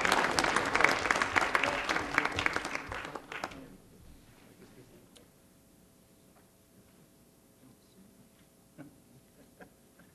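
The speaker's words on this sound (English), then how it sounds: "Let's give them a big round of applause." Applause at a city council meeting during a civil engineers' centennial recognition: a dense burst of clapping for about three seconds that quickly fades into a quiet room with a few faint scattered claps.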